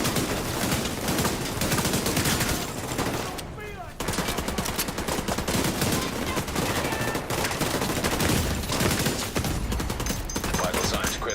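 Video game gunfire in a realism-mode shooter, dense rapid bursts and single shots crackling nearly nonstop for about eleven seconds, with a brief lull near the four-second mark, loud and close under occasional speech.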